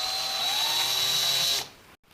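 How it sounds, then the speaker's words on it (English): A power drill with an 11/64 bit bores a hole while building a mallet, a steady high whine running close and loud for about a second and a half before cutting off abruptly. "So let's just drill a hole and see how this works."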